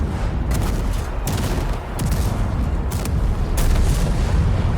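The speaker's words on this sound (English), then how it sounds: "Shots will ring out like you've never heard them before." Tank cannon fire in World of Tanks, several sharp, booming gunshots spaced irregularly, each cracking loudly before a rolling echo and rumble that lingers between shots.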